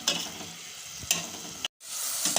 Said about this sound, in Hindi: तकरीबन इसको 1 से 2 मिनट तक फ्राई करेंगे।